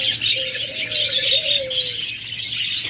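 Caged pet lovebirds or budgerigars kept as breeding pairs chirp and twitter in a busy, high continuous chatter close by, with a soft cooing tone running underneath.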